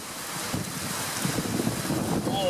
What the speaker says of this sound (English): bit of wind gust